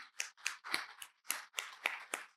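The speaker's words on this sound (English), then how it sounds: "I want you to give yourself a round of applause just for coming out today." A small, light round of applause at a Mother's Day awards brunch, with soft uneven clapping in short bursts that is faint and slightly distant.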